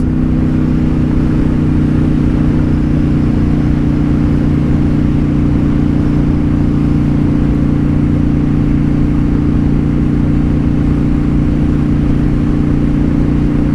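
A Honda Shadow motorcycle is ridden at night, its engine a loud, steady drone with constant low hum and wind rush throughout, close and unbroken, with no voices.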